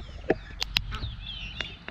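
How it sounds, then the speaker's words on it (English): A chicken clucking faintly in a few short, separate bursts over a low, steady background hum. "Got a sleeping pig with a chicken on it."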